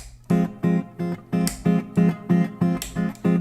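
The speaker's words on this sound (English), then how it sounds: "With the overdrive, it sounds like this." Eight evenly spaced electric guitar chord stabs through a low-gain overdrive pedal, mildly driven and fairly bright, each one short and punchy, played alone in a steady rhythm.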